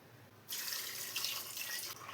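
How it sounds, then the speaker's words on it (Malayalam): Water poured into a pot of chickpea and potato curry, a steady splashing pour starting half a second in and running to the end, close and fairly loud. "ഞാനിപ്പോൾ ഇതിലോട്ട് 2 ഗ്ലാസ് വെള്ളമാണ് ചേർത്ത് കൊടുക്കുന്നത്."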